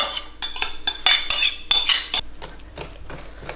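A utensil scrapes and clinks against a bowl in quick rhythmic strokes as grated orange zest is rubbed with oil for a Christmas orange cake batter, close and loud, with no voice.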